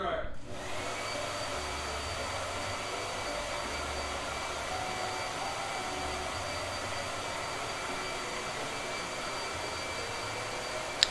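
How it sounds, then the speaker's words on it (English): A hair blow dryer runs steadily and close by for the whole stretch, a constant loud whooshing hum with a faint high whine, starting abruptly at the beginning while painting a portrait. "I need to blow dry."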